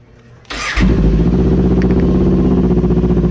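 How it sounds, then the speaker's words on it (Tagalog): A Kawasaki Ninja 400 motorcycle fitted with a quick shifter cranks briefly with a whirring starter, then catches and settles into a loud, steady, throbbing idle right up close. "So buksan natin yung motor"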